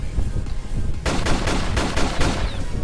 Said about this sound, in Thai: ปืนพกทำไมมันรัวจริงวะเฮ้ย